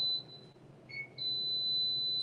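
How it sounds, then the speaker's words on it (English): An electronic device beeps in an indoor gardening setting with coconut coir: a thin, high, steady tone that cuts out briefly and then resumes as a continuous beep, fairly clear over a quiet room. "Oh, something's beeping here"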